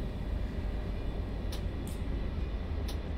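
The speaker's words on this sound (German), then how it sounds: "da brummen seine Fahrmotoren." A class 648 railcar in the Train Simulator 2 game hums with a steady, dense traction-motor drone. The low rumble stays constant at moderate loudness, with a few faint high ticks, and no one speaks.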